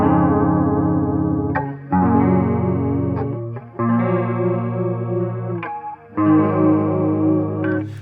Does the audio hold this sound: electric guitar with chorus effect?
yes